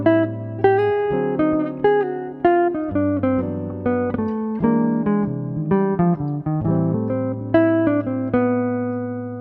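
A jazz guitar playing a flowing single-note bebop line, clear plucked notes in quick succession with sustained lower tones beneath, close and alone with no voice.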